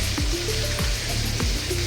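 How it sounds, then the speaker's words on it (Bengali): Fish pieces sizzle steadily in a hot frying pan, a continuous close crackle with a few recurring short swooping tones over it, and no voices. "আমার মাছগুলো প্রায় ভাজা ভাজা হয়ে গেছে বলতে আর 1 মিনিট লাগবে আর কি।"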